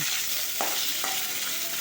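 A tempering of urad dal, mustard seeds, cumin, dried red chillies, asafoetida and curry leaves frying in hot oil, heard as a close, continuous sizzle with a couple of quick stirring scrapes.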